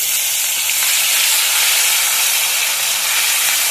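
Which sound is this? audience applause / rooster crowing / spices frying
spices frying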